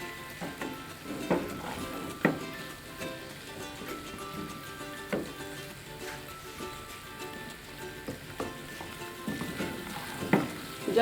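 Potatoes and eggs for a keema-style aloo anday salan fry and sizzle in a pan over a low flame, a steady crackle broken by occasional louder spatters and stirring scrapes, with no talking.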